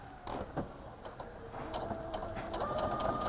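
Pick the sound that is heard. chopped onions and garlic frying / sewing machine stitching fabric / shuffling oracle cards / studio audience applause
sewing machine stitching fabric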